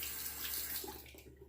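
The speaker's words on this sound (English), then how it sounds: "I'll wet the razor." Tap water runs steadily while a Yuma razor is wet before a shave with La Toja shaving soap stick, a close, continuous rushing splash that fades slightly at the end.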